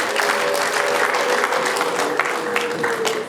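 Guests at a Rwandan wedding clap continuously in a dense, loud burst of crowd applause, with a faint sustained tone running underneath.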